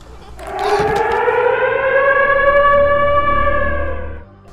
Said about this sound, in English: That's when we hear the siren from that radio.